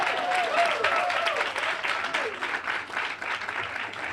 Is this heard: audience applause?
yes